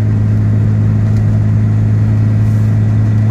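A 2017 Ligier JS50L Élégance microcar with a dCi diesel engine drives uphill, a loud, steady low drone that holds constant throughout, heard from inside the cabin with no talking.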